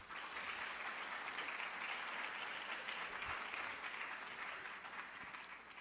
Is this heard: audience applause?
yes